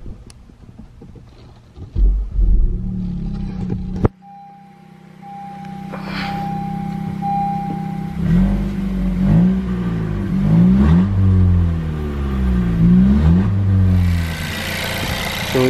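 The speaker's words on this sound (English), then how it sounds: "We just revved it a little bit." A car engine revs up after an oil catch can install, starting from idle then climbing through several rising and falling rev sweeps, close and loud, with no talking.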